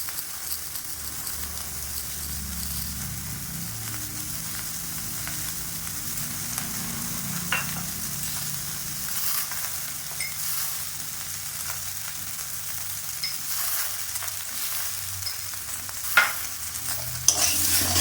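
Bitter gourd shukto being stirred in a frying pan with salt just added: a soft, continuous sizzle with occasional scrapes and light knocks of the spoon, steady and near, with no voices.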